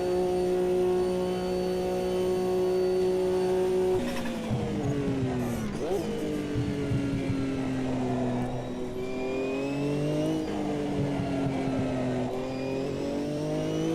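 Race car in the Automobilista 2 sim racing game running flat out at around 292 km/h, a loud steady high-pitched engine drone with slight pitch shifts and tyre noise throughout, no talking.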